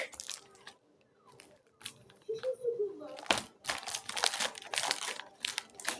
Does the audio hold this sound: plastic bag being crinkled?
yes